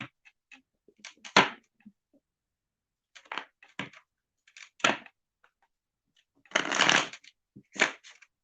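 Tarot cards are shuffled by hand close up, in repeated short riffling bursts separated by quiet pauses, with a longer rustling shuffle near the end and hardly any talk.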